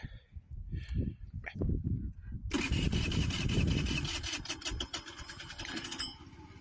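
A small scooter engine cranks a few times, then catches and idles with a steady, buzzing rattle close by.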